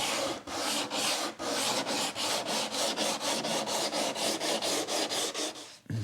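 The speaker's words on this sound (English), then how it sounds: "all what's left now to do is a bit of light sanding on the edges" Grit 120 sandpaper rasps lightly along the edges of wooden pieces in steady, even back-and-forth strokes, close and clear with no talking.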